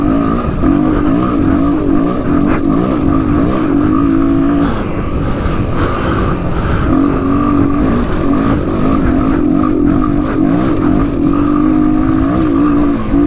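Honda XR200 dirt bike with modified PVC-style suspension riding laps on a small track, its engine loud and close, revving and easing continuously as it works through the course.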